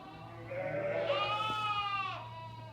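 A sheep bleats once during lambing, a single drawn-out call lasting about a second and a half, fairly close and alone over a quiet background.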